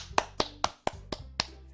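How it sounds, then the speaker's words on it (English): A single person claps hands slowly and sharply, about seven distinct claps spaced at an uneven rhythm, close and fairly quiet, with no other voices or crowd. "I'm the first to start applauding"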